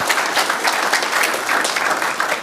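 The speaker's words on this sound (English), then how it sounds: "Round of applause for Billie Jo" A conference audience gives a warm round of clapping for a presenter, an even, continuous patter of many hands at moderate level with no speech over it.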